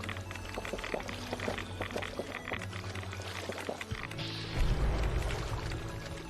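Dirty water being scooped up in the Fallout 76 game: a run of pouring, sloshing liquid that shifts midway into a louder, deeper splash, set over a low background hum.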